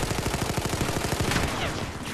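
Rapid automatic gunfire from a Battlefield 4 Rush multiplayer match rattles in a fast, even burst, loud and dense, then tails off into softer game noise.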